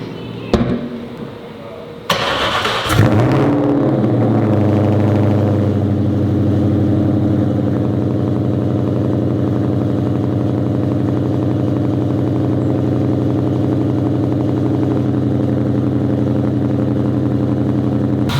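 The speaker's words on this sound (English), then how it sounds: "let's go ahead and hear this thing for the first time with the new headers" A Ford SVT Terminator Cobra V8 fitted with new exhaust headers cranks and fires with a sharp burst, then settles into a loud, steady, lumpy idle close by for the rest of the stretch.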